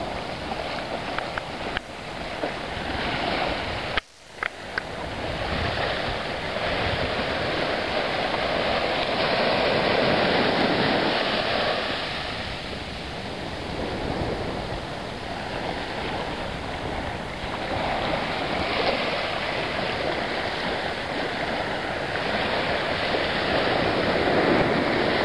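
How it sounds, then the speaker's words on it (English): Ocean surf rolls in at Somerville Beach, a loud, continuous wash of breaking waves with swelling and easing surges, heard close and without talk. "there's some nice surf on here"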